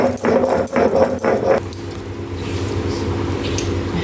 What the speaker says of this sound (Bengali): এবার আমি সর্ষে, পোস্ত, একটু লঙ্কা, একটু পেঁয়াজ দিয়ে ভালো করে বেটে নেব